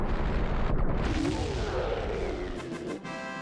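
A heavy video game explosion booms and crashes, then rumbles and fades over a few seconds; a voice mimics the blast just before it.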